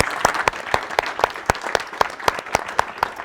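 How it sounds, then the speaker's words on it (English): A small audience at a live foster care discussion event claps briefly, with sharp, fairly sparse individual claps close by. "Can we just give them a round of applause for sharing their stories?"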